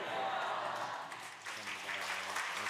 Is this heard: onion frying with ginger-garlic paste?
no